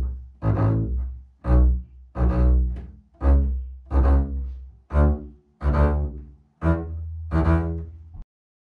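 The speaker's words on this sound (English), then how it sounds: "we can combine those scales with our rhythm from the Paganini" Double bass bowed scale exercise in a repeating Paganini-style rhythm, a steady run of about eight loud, resonant bowed phrases each cut by a short gap, played solo with no talking.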